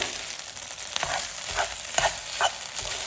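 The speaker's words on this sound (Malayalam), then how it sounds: "നന്നായിട്ട് നമ്മൾ ഇളക്കി ഒന്ന് കൊടുക്കുന്നുണ്ട്." Cooked rice is stirred into prawns in a sizzling pan for homemade prawn biryani, with a steady frying hiss and irregular scraping knocks of the spoon against the pan.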